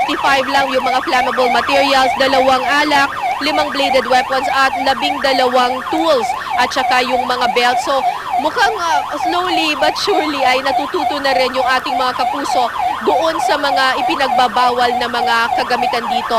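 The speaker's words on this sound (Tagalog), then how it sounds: "Yung naririnig ninyo ngayon ay may papasok na ambulansya dito sa loob ng Manila North Cemetery." Ambulance siren wailing loudly and continuously as it enters Manila North Cemetery, its rising and falling tone repeating throughout while a reporter talks over it.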